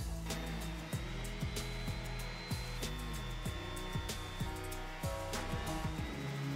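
A steady, high-pitched whine of a power sander with 320-grit paper on a steel hammer head, with repeated sweeping changes in tone as the tool is moved back and forth.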